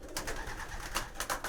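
Pigeons coo in a breeding loft, soft, repeated throaty calls close by in a brief burst with no talking.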